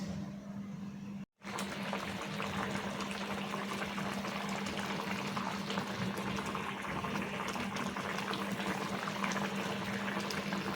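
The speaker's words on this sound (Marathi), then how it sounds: "दोन मिनटं फक्त आपल्याला उकळ काढायचे जास्त वेळ उकळवायचा नाही आहे" A pot of fish curry with coconut and mango bubbles at a steady, vigorous boil, its thick gurgling continuous apart from a brief break early on.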